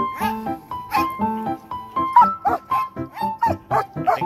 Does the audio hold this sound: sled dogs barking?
yes